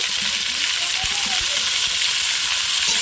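Potatoes and papaya, coated with salt and turmeric, fry with onion in a pan of oil, making a steady, dense sizzle that holds evenly loud from start to finish, with a few faint low knocks underneath.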